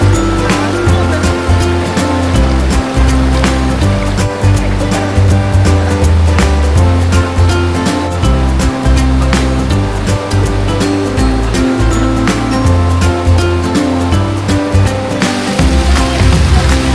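River water rushes continuously at a stream near a dam, a loud, close, broadband roar that holds steady throughout.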